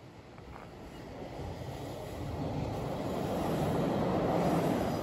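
A train rumbles along a railway track in Pontremoli, Tuscany, Italy, its low roar steadily growing louder as it approaches, with no voices.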